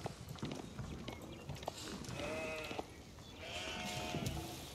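Sheep in Age of Empires 4 bleat twice, a wavering cry around two seconds in and another near the end, over game background noise with clicks and hoof-like clatter.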